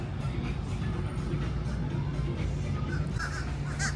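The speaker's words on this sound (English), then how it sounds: "A lot of crows over here." Crows caw repeatedly in the distance at Disney Springs over a steady low rumble of outdoor noise, the calls scattered and fairly faint.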